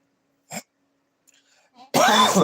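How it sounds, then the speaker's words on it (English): A person with a throat drying out from wearing a respirator filter coughs once sharply, makes a few small throat noises, then lets out a loud, rough cough. "I'm coughing quite a lot now because my throat's drying out."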